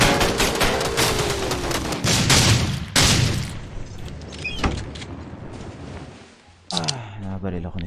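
Rapid bursts of gunfire and scattered single shots from the video game Rules of Survival, loud and close, mixed with mechanical clatter and a voice talking over the action.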